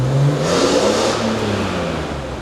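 BMW E46 M3 engine revving up, a loud, close rising whir that holds steady and then eases off slightly over a couple of seconds, with no talking.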